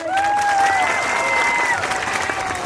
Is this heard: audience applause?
yes